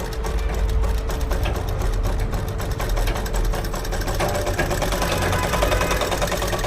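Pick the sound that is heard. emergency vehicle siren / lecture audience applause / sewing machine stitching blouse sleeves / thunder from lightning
sewing machine stitching blouse sleeves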